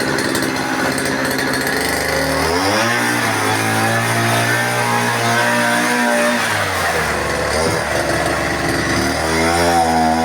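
A homemade mini tractor powered by a small two-stroke brush cutter engine, running loud and close with a steady buzzing drone whose pitch dips as it takes load and then climbs back up.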